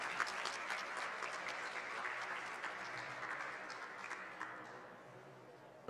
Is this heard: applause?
yes